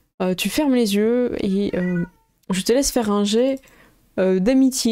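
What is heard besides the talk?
cat meowing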